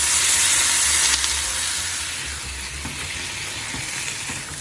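Ham, chopped green peppers and pre-made sauce sizzle and hiss steadily in a hot pan for a Japanese breakfast stir-fry, a loud, continuous frying sound with faint stirring scrapes and no voices.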